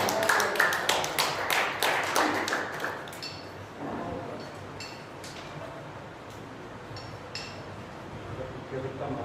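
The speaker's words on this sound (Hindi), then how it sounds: "तो स्वागत करिए जोरदार तालियों से आदरणीय कार्तिकेय।" Applause from the audience at a Sanskar Bharati cultural gathering in Sitapur, a burst of sharp claps that is loud at first and then thins into scattered taps and background murmur.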